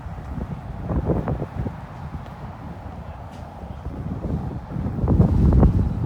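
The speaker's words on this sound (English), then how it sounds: "Oh, it's windy." Gusty wind buffets the microphone with low, rumbling roars that swell and ease, strongest near the end.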